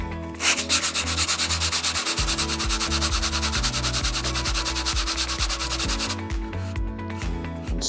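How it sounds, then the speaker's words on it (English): A cured Pyrolite piece is rubbed with sandpaper in quick, even back-and-forth strokes, loud and close, the rhythmic scraping continuing for several seconds before stopping near the end. "we're just going to take our sandpaper"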